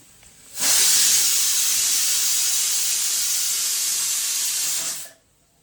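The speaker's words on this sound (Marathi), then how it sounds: "आताच कुकरच्या शिट्टीचा आवाज" A pressure cooker lets off steam on a Sunday while mutton cooks, a loud continuous hiss that starts abruptly, holds evenly for about four seconds, then cuts off into quiet.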